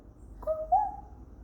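A 20-month-old toddler's voice imitates a cuckoo call, a single short hooting coo rising slightly and trailing off, heard alone against a quiet room.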